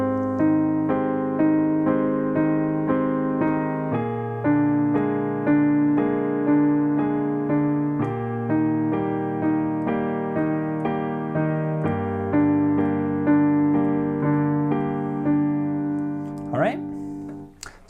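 A piano plays the accompaniment to a song with both hands, steady sustained chords over a moving bass line, close and clear for the whole stretch, with a brief stray noise near the end.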